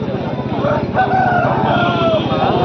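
Roosters crowing at a busy aseel chicken market, one drawn-out crow rising over a constant low hubbub of birds and people, fairly close and loud.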